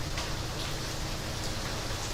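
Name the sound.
rain falling during a Florida rainstorm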